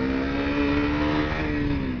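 A new 400cc motorcycle engine revs close by, holding a steady, loud droning tone that rises slightly and eases back.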